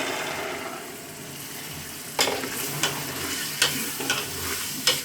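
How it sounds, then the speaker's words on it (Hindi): Boiled black chickpeas go into a sizzling masala and are stirred, a steady frying hiss broken by several sharp spoon scrapes and clacks against the pan. "तो गाइस, इसमें चने डालेंगे।"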